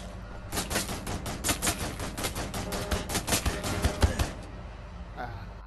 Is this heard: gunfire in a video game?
yes